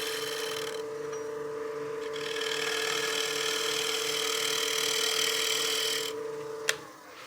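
A lathe tool cuts the wooden face of a turned cake stand, a continuous close scraping hiss over a steady motor whine, ending with a sharp click as the cut stops.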